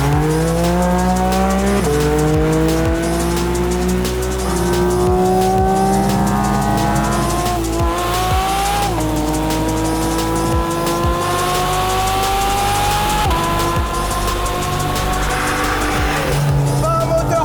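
A Porsche Cayman GT4 RS driven hard, its high-revving engine climbing through repeated rising pitch sweeps with gear changes, tires squealing and skidding, loud and close throughout.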